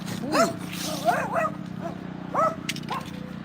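Dogs give short, high yips and whines over a steady low background hum, in a few separate bursts spread across the moment.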